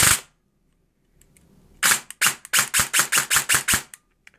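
An airsoft gun fitted with a Gate Merf 3.2 MOSFET fires a burst: after one sharp crack and a pause, a rapid, evenly spaced string of about ten loud close snapping shots rings out.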